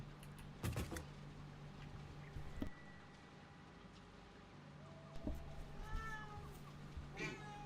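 A cat meows several times in short, high calls, scattered among clicks, thumps and rustling close by, with no talking.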